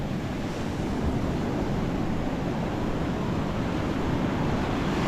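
Sea waves wash steadily onto the shore at Tiruchendur, a loud, continuous broadband surf roar with some wind buffeting the microphone, no voices present.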